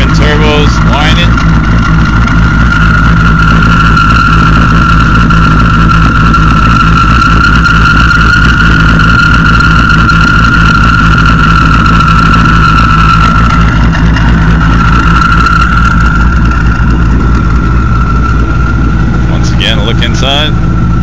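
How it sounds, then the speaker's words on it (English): A 2008 Challenger running twin turbos at about 800 horsepower, with a steady high turbo whine held over a constant loud engine drone for about twenty seconds, heard close up. "you can hear the twin turbos whining"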